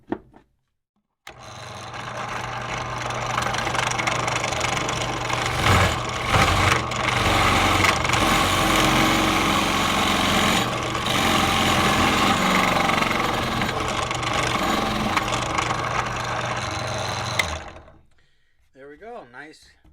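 Drill press boring into wood with a Forstner bit, a loud steady motor whine with grinding cutting noise for about sixteen seconds, then spinning down, and a person talking at the end.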